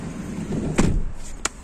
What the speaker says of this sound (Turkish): Kapımı kapatayım.